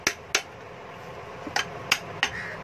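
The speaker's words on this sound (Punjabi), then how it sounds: "ਥੌੜੀ ਦੇ ਨਾਲ ਇਹਨੂੰ ਪੋਲੀ ਪੋਲੀ ਸੱਟ ਲਾਉਣੀ ਅਤੇ ਟਾਪਾ ਬਾਹਰ ਆ ਜਾਵੇ।" A hammer gently taps a jammed bearing on an electric water pump, giving five or six light, sharp metallic knocks at uneven intervals, close by over a quiet workshop background.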